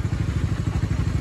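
A motorcycle being ridden putters with a rapid, even low-pitched engine pulse, close and steady for a brief moment, with no talking.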